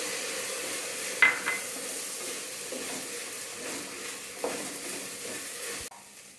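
Tomato sauce stirred into a frying pan of sizzling food: a steady soft sizzle with a few spoon scrapes and clinks against the pan, ending abruptly.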